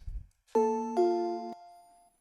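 A synthesized bell sounds in a music beat, playing two bright, ringing notes in quick succession that sustain and slowly fade, clean and alone after a brief low thump.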